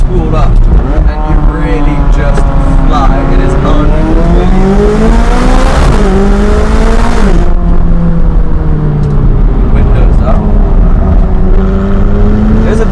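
Loud engine of a turbocharged supercar accelerating, pitch climbing through gear changes with a brief drop mid-run, heard close from inside with a voice talking over it.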